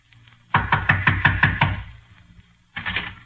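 A firm run of about six raps on a wooden door in an old-time radio detective play, loud and close, then a pause before a second shorter burst of knocking.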